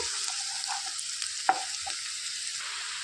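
Onions and green chillies frying in a pan for a spinach-and-tomato curry, giving a steady soft sizzle throughout with a few faint stirring scrapes and one brief clink near the middle.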